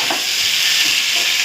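Jackfruit sautéed with spices in a pan gives a steady, close sizzling hiss with faint stirring scrapes and no talk.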